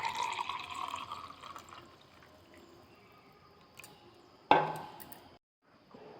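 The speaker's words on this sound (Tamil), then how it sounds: "அப்புறம் கிளாஸில் ஊற்றிக்கோங்க." Banana stem juice pours into a glass with a short liquid splash and trickle, then drips off, heard close and alone after a few seconds of faint background sound.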